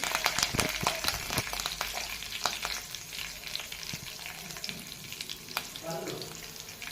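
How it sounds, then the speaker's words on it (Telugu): Ginger and curry leaves sizzling in hot oil in a pan for upma while a spoon stirs them, giving steady crackling with frequent quick clinks and scrapes up close, plus a brief watery splash near the end. "వేసుకొని ఇవన్నిటిని మంచిగా మిక్స్ చేసేసుకోవాలి."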